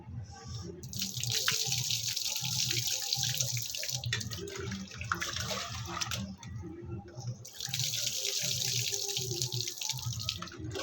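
Rice being washed by hand in a sink under a running tap, water splashing and sloshing steadily throughout, with a rhythmic low churning from the grains being rubbed and swirled.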